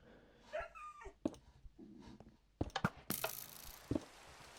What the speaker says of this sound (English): My dogs are making a lot of noises